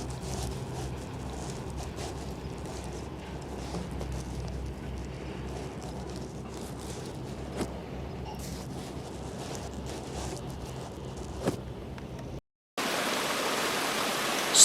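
A mountain brook runs through the Rosengarten area of the Dolomites near Val Gardena, heard from midstream as a steady, close broadband rush of water with no talk, until a brief cut leads into a brighter stretch of flow.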